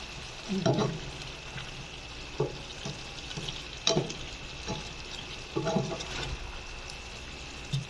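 Stirring of igado sauce in a cooking pan comes through as a few soft scraping strokes at a slow, irregular rhythm over a faint background hiss, with no talking.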